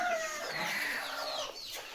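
Hens cluck and chirp close by among five brooding birds and their newly hatched chicks, a steady busy chatter of soft calls with high peeping running throughout, no voices.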